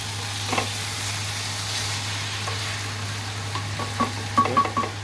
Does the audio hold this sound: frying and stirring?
yes